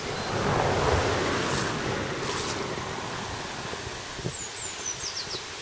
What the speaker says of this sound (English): If you can hear, there's the little river.